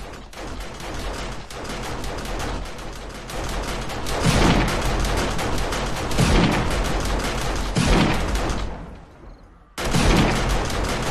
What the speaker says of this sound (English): We're going to hear the turrets, this side.